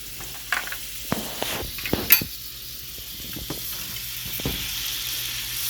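Butter sizzling in a large hot skillet on medium-high heat, a steady soft frying hiss broken by several clinks and scrapes of a utensil against the pan.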